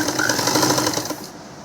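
A sewing machine stitches a baby frock made from blouse-piece cloth, a steady close buzzing whir with a fast repeating needle rhythm that drops off just before the end.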